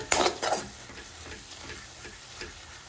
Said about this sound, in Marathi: ते जे राहिलेले मटार आहे ते ह्या वेळेला आता आपण ह्यामध्ये टाकून द्यायचे, व्यवस्थित असं मिक्स करायचं